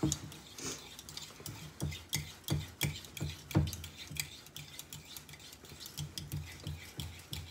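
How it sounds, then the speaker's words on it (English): A fork beats eggs for scrambled eggs, giving a steady run of quick metallic clicks and scrapes against the bowl. The taps come in rhythmic bursts, up close and fairly clear, with no talking. "take the fork and mix it up"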